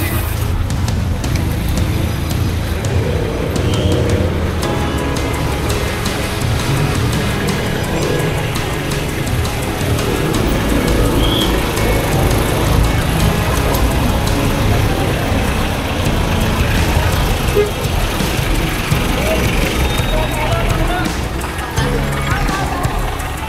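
Busy street traffic with jeepneys and other vehicles rumbling past a cyclist, a loud continuous wash of engines and road noise with occasional clatter throughout.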